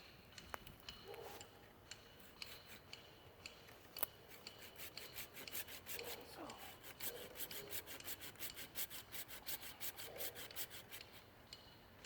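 Handsaw cutting through a nectarine tree branch during pruning, a rapid run of rasping back-and-forth strokes, close and fairly quiet, speeding into a steady rhythm toward the end.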